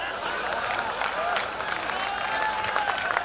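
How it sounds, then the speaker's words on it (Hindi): Audience applause at a comedy poetry gathering in Rajnandgaon, a fairly soft, steady spread of clapping from a crowd, with faint whistling or tonal sounds drifting through it. "आप जोरदार ताली बजाओ"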